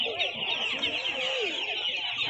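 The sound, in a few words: chickens clucking at a market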